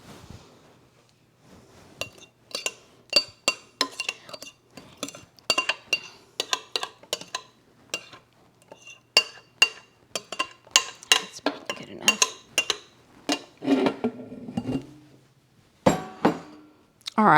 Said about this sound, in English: I'm gonna have to get a spoon or something to rake all that good stuff out